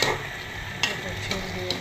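Spices and vegetables, eggplant, potato and tomato, sizzle in hot oil for a hilsa fish curry, a steady close fry broken by a few soft stirring scrapes.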